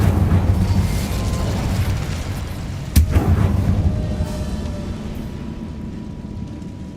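A fire spell, Incendio, cast in the Hogwarts Legacy game, heard as a sharp burst near the three-second mark over a steady rumbling backdrop of effects, with no talking.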